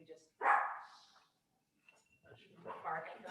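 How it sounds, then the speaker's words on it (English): A llama gives a couple of short, sharp bark-like calls, fairly faint and separated by a pause, followed by softer murmuring noise. "I didn't know a llama could bark like that."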